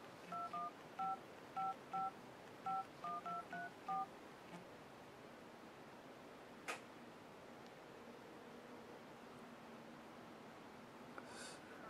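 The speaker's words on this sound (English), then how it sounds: "Phone dialer." Keypad tones from the phone dialer of a Samsung Acclaim handset on U.S. Cellular, about a dozen short beeps in quick uneven bursts over the first four seconds, then quiet room hiss with a faint click.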